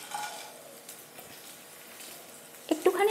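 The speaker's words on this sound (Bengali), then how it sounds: "তেল আর ঘি খুব ভালোভাবে গরম হয়ে গেছে। এখানে আমি সমস্ত গোটা গরম মশলার ফোড়ন দিয়ে দিচ্ছি।" Whole garam masala spices sizzle in hot oil and ghee in a pan, a soft steady crackle at low volume, with a brief clatter of stirring near the end.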